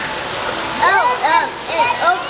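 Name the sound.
water falling down a waterfall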